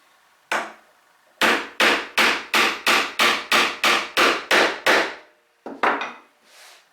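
Wooden mallet striking a chisel to chop twin mortises in wood, a run of about a dozen sharp, evenly spaced knocks, loud and close, with a few more blows after a short pause.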